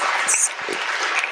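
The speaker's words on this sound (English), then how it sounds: "One more round of applause." Audience applause for panelists at the close of a women's empowerment panel evening, a short dense patter of clapping with a few sharper claps standing out.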